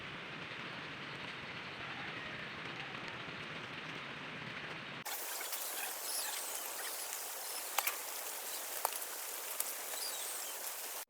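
Steady rain falls in the morning, a dense hiss that shifts partway through from a fuller, lower wash to a thinner, brighter patter with a few sharper drop clicks.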